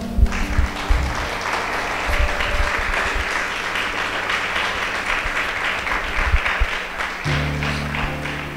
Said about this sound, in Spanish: ¿Quieren darle un aplauso fuerte al Señor?